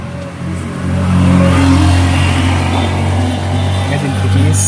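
A Toyota Matrix engine, converted from manual to automatic with a fully replaced wiring harness, revs up loud and close, its drone rising and holding while someone talks over it.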